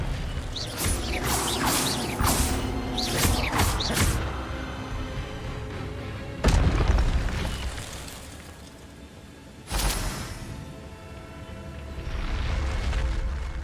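Spell-casting effects from the video game Hogwarts Legacy, an Incendio fire spell among them: loud whooshing, crackling bursts early on, a sharp impact around the middle and another burst later, over steady game ambience.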